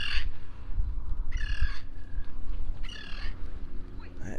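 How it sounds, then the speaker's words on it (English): A loud seagull at a beach calls in three separate harsh squawking bursts, with a steady low rumble of surf and wind underneath between the calls. "That is one loud seagull."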